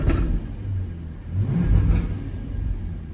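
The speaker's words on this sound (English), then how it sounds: "So when I rev it, listen how much quieter it is." A 2017 Jaguar F-Type R coupe with supercharged V8, exhaust valves closed, is revved a few times: muted, rumbling bursts that swell and fade, fairly subdued and close by.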